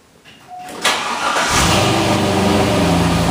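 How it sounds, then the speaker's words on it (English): A C5 Corvette engine being started, with a brief starter crank that catches into a loud, steady, close idle during an oil change. "gonna fire up the car and then we're gonna look for a leak with the motor running"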